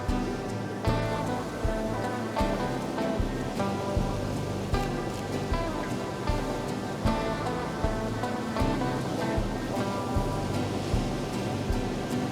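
Heavy sea surf surging against sea stacks on the Algarve coast at sunset, a dense, continuous roar of crashing and washing water with repeated louder surges, close and loud.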